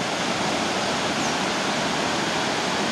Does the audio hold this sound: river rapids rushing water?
yes